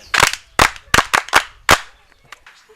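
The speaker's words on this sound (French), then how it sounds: "Applaudissez pour elle." A few sharp, separate hand claps in an uneven burst, like a small group clapping briefly, close by with quiet gaps between.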